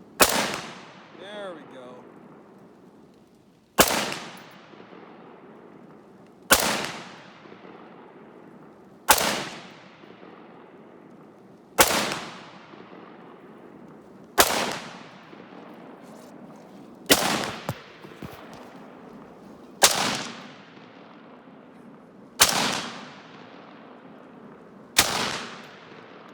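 A Steyr AUG rifle fires about ten single shots at a slow, even pace, a few seconds apart. Each crack is loud and sharp, trailed by a long echoing decay, and someone speaks briefly between shots.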